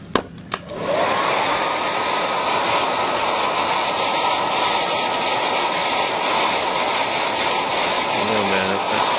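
A heat gun blows steadily and loudly for several seconds, warming the gooey rubber cement under the film of an iPhone 3G touchscreen during a repair, with only a brief knock at the start.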